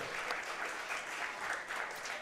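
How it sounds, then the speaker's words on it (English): Steady applause from a crowd for both teams after a Rezzed quarter-final match, an even wash of clapping heard from a little distance throughout. "round of applause, guys, for both teams"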